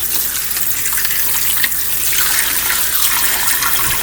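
Small ponytail radishes are rinsed of sand under a running kitchen tap, giving a steady, loud gush of water throughout with no voices.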